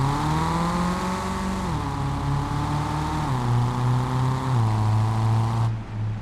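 A new car's engine in a driving video game mod hums steadily and loud, its pitch stepping up through several gear-like rises as it accelerates gently, with no talk.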